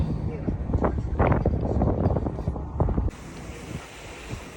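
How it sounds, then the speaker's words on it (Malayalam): Cold wind gusts roaring across a ship deck on a ferry crossing from Sweden to Denmark, loud and steady for about three seconds before dropping to a softer breezy hiss. "നല്ല തണുത്ത കാറ്റും"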